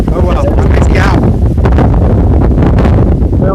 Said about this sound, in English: as with anything else named Hood, it's very windy and loud